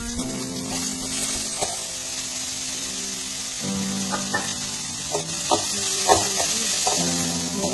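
Green chillies, chickpea greens and onion fry in a pan for a cluster beans dry palya. A steady close sizzle runs throughout, with a spoon scraping and tapping more often in the second half.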